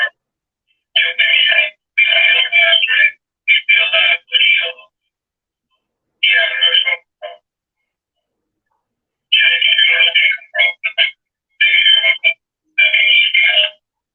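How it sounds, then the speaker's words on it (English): A phone ringtone sounds loud and close, repeating in short tonal bursts with brief silent gaps between them, alone with no talking. "Is this your phone?"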